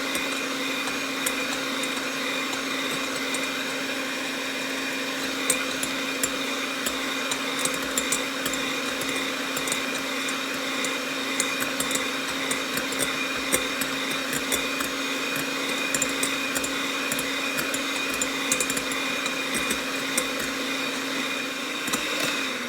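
Continuous steady whir of an electric mixer beating chiffon cake batter with sugar at an even medium speed, with light clicking and scraping against a bowl throughout.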